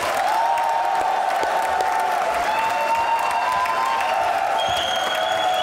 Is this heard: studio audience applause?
yes